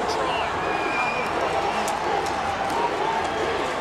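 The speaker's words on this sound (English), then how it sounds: "The crowd has gone up." Stadium crowd roaring at a 2017 rugby league grand final between PNG Hunters and Sunshine Coast Falcons, a dense, steady wall of cheering throughout with excited commentary voices over it.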